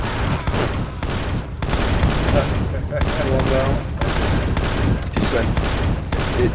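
Rapid turret fire in the space survival game Empyrion Galactic Survival, a dense, loud stream of repeated shots running almost continuously, with a voice speaking over it.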